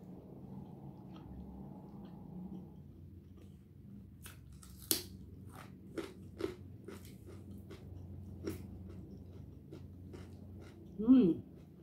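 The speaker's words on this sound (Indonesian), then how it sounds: "cuman kita dengar kriuk-kriuknya aja." Crunchy eating with spicy sweet soy chili sambal, scattered sharp crisp bites and crackles off-camera, irregular and close, over a faint background hum and brief murmuring voices.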